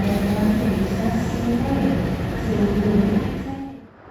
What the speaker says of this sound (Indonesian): Berhenti cuma sebentar dan berangkat kembali dari stasiun Kroya